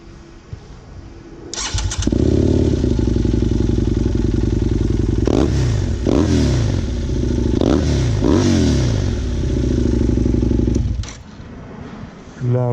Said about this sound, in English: how the mics can handle the bike sound while stationary